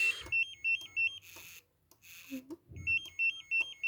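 A SPY 5000 or Craub car alarm sounds, a repeating electronic warbling beep in steady pulses, broken by a brief pause and a few clicks before the pattern resumes, close and clear.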